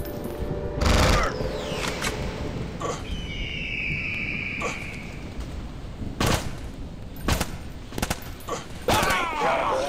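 Scattered gunshots in the mobile shooter Real Counter Terrorist Strike, sharp isolated bursts spread across the scene over a low ambient backdrop, with a faint whistling tone midway.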